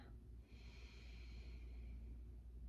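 A pregnant woman takes a slow, quiet inhale through the nose during a prenatal yoga session, a soft, airy breath lasting about a second and a half over a faint low room hum.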